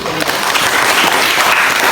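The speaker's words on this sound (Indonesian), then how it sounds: "Kasih tepuk tangan dulu." Dense applause from a classroom group, loud and continuous for a couple of seconds.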